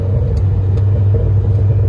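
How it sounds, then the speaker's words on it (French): A Renault Clio 4 R.S. with a freed-up exhaust line in sport mode gives off a continuous, loud, deep exhaust drone, heard up close and steady throughout. "On entend encore plus le bruit de la ligne."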